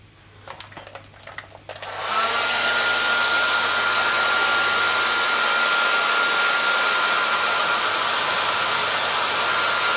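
A heat gun roars steadily and loudly, starting after a couple of seconds of handling noise, as it warms a number graphic on a Honda CRF250 dirt bike.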